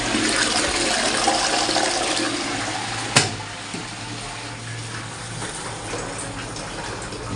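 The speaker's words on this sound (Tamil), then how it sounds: "நம்ம இப்போ தண்ணி அடித்து செக் பண்ணுவோம், லீக்கிங் இருக்குதா என்ன ஏதுன்னு சொல்லி நம்ம செக் பண்ணுவோம்." A newly installed toilet tank is flushed to check for leaks, giving a loud, close, continuous rush of water that gushes for several seconds, with a brief clunk near the middle before the refilling flow settles.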